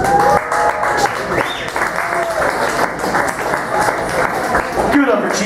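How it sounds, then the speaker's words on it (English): Comedy-show audience applauding loudly and steadily throughout, with cheers and voices mixed into the clapping. "Everybody give him a round of applause."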